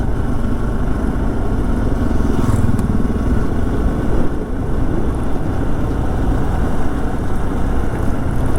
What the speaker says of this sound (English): First motorcycle I saw on this road.